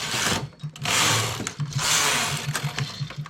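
A knitting machine working cable stitches makes broad, rushing carriage passes in several bursts, with a rhythmic mechanical clatter between them, close and fairly loud.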